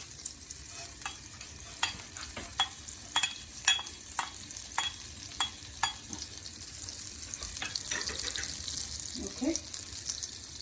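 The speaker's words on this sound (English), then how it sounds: "So while we lightly fry the cumin seeds" Cumin seeds fry in a pan on high heat for pav bhaji, a soft sizzle running underneath while a spoon clacks against the pan in a string of sharp taps, and a voice speaks briefly near the end.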